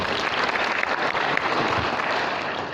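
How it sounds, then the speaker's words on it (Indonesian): An indoor audience claps steadily in dense, even applause after a speech at a community gathering on countering radicalism and terrorism, with no voices standing out. "Silakan beri aplaus dulu untuk keras."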